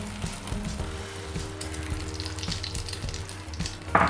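Beaten egg with vegetables for an omelette fries in very hot refined oil, crackling and sizzling steadily up close, with low rhythmic pan knocks and a brief sharper spatter at the end.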